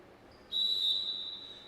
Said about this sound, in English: Just waiting for the whistle from the officials